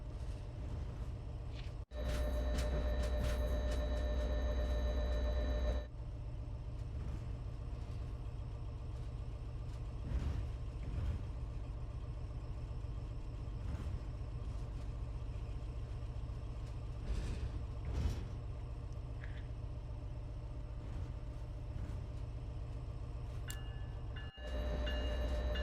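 An MBTA commuter rail train on the Providence/Stoughton line rumbles steadily from inside the cab as it slows and pulls into a station. Low, continuous rolling noise with occasional clanks.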